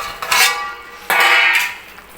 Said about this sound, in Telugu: ఇప్పుడు మూత ఓపెన్ చేసి